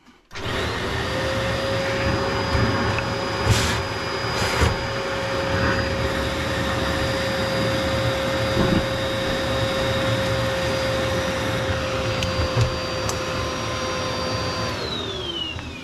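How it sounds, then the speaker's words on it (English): A vacuum cleaner running during the sweeping of a previously tarry chimney flue, a loud steady whine and roar that starts abruptly and holds for the full length, with occasional knocks and scrapes. "Vacuum on."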